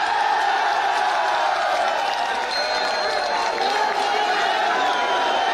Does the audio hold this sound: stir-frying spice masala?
no